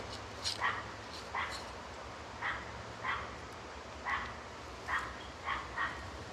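Distant barks from a neighbor's dog repeat at a steady pace, single and double woofs spaced about a second apart, alone outdoors in a garden with no talking.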